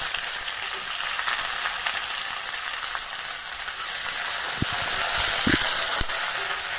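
Chopped onions hit hot oil for a Bengali jackfruit curry and sizzle in a loud, continuous hiss, with a few soft clinks from stirring near the end.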